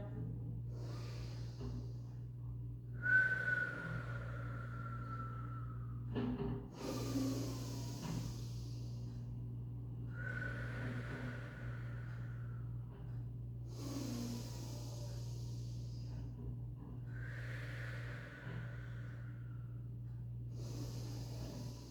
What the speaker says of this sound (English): Take some deep breaths in and out.